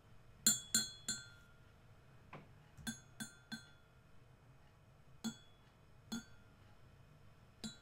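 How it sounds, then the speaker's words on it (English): A spoon clinks repeatedly against a ceramic mug while stirring hot chocolate, crisp bright taps in small irregular clusters, close and quiet against a soft background, with no talk. "The hot chocolate now adequately stirred"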